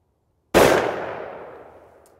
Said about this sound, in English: first shot's gonna be the Federal load